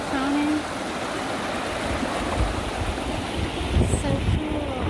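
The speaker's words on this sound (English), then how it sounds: "this very cool little creek thing down here" A clear little forest creek flowing over rocks among sequoia and pine trees, a steady close rushing and gurgling of water with a few faint splashes.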